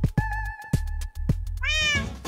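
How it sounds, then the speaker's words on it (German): A cat in a Minecraft meme video meows several times in a row, a close, clear series of mewing calls ending in a louder, rising meow. "Oh, kleine süße Katze."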